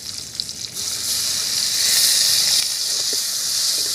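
Water poured into a hot pan of frying onions and cashews for a cauliflower roast, a loud steady hissing sizzle that swells and holds, close up with faint stirring taps.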